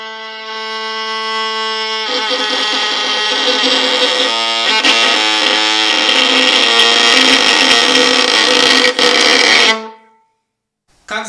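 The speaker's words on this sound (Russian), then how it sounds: "Как меняется тембр одного тона в зависимости от степени давления смычка," A single sustained bowed string tone is played close and loud, its timbre turning rougher and noisier as bow pressure steadily increases, then stopping abruptly near the end.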